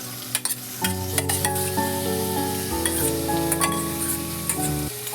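Washed, drained boneless chicken pieces go into a pan of hot oil and spices, a bright continuous sizzle with scattered sharp crackles and stirring clatter, near and loud; sustained tonal hum runs underneath.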